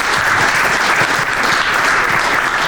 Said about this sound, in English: Everybody give a round of applause to our participants.